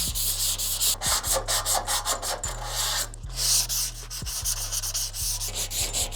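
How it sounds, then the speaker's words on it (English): Steady back-and-forth hand sanding of an old car dashboard with 220 grit sandpaper, a rhythmic scratchy rasp repeating about twice a second, close and continuous with a low hum underneath. "give it a light smoothing with some 220 grit sandpaper"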